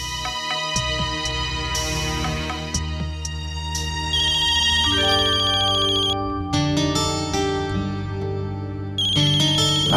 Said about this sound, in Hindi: अक्षरा का फोन आ रहा है